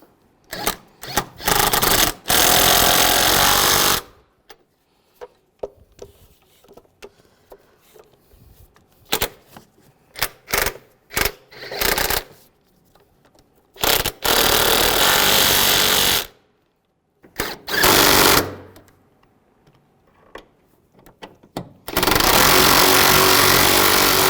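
Power tool tightening engine mount bolts on a 1998-2010 Volkswagen Beetle, with loud, close bursts of rattling impact separated by short pauses and quieter gaps of handling.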